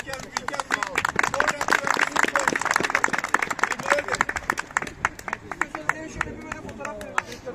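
A group of people claps steadily and briskly at a Giresunspor football training session, the dense clapping continuing loud and close for several seconds with a crowd murmur underneath.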